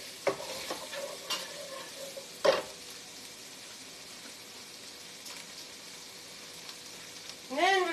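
Onion fries faintly in a pan, a soft steady sizzle broken by a few sharp utensil clinks and stirring knocks, with a short voice-like sound near the end.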